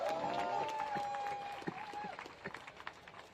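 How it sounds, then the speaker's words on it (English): A crowd at a protest in Madrid against Trump applauds and cheers, a dense wash of clapping with a voice over it that fades into scattered claps. "Give yourselves a round of applause."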